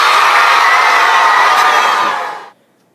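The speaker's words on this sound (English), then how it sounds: "the Franklinites would start cheering with glee" A large crowd of children cheers with glee in an auditorium, a loud, dense, continuous roar of voices that holds steady, then fades and cuts off about two-thirds of the way through.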